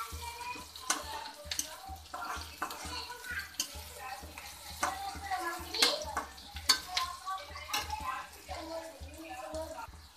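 Onions browning in a pan of oil for an Indian-style masala pasta, a steady close sizzle with scattered crackles and stirring clinks throughout.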